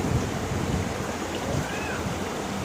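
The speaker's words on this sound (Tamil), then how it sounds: "பைப்லேருந்து எவ்வளோ ஃபோர்ஸாக வெளில வரும் பாருங்கள் தண்ணி." Rainwater gushes forcefully from a pipe into a 500-litre storage tank, a dense, constant splashing rush held at an even level throughout without speech.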